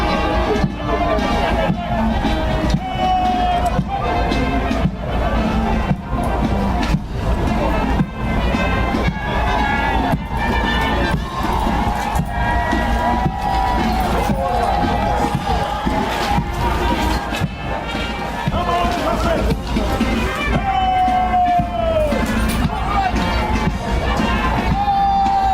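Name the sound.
crowd cheering at national independence military parade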